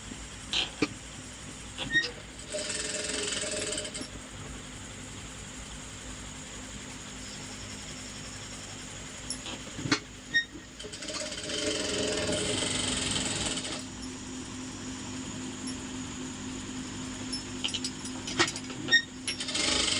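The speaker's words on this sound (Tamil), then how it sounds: "இப்போ தைக்கலாம்." Electric sewing machine stitching folded blouse fabric pieces, running in short mechanical bursts with rattling clicks between pauses, fairly close and alone.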